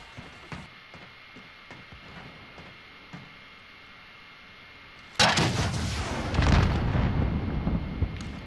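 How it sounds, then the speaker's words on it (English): Quiet game ambience with faint clicks and thuds, then a sudden loud explosion that rumbles and crackles on for several seconds. "That explosion was crazy."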